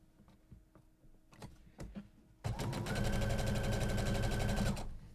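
A sewing machine stitching a 1/4 inch seam on a tote bag lining, a few soft clicks and handling noises before the motor starts into a loud, steady, rapid needle run lasting about two seconds, close up.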